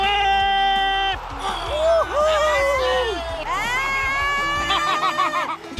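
Children shout, scream and cheer excitedly in a lively group during a classroom game, their high voices overlapping loudly and close by for several seconds.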